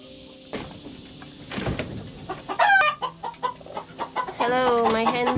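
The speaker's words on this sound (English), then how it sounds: "Hello, my hens." Hens in a garden cluck and squawk in quick, close bursts of varied calls, with a few short knocks and rustles in the background.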